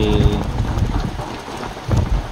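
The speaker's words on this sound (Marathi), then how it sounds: "अजून पण पाऊस पडतोय सकाळपासून" Steady rain hisses over a surface, with heavier patches of drips and splashes and some low rumbling nearby.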